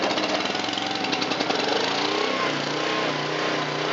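Portable generator with a new battery, running steadily after starting on choke, a loud close engine drone with an even, throbbing pulse and no voices.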